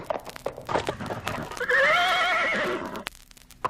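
A horse whinnies loudly and long, its call rising and falling, after a stretch of rapid hoofbeats clattering close by.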